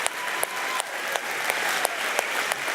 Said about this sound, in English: That's worth clapping about.